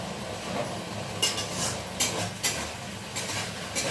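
Food frying in a pan at home, a soft steady sizzle with scraping stirs and a few clinks of utensil against metal, close by and moderately quiet.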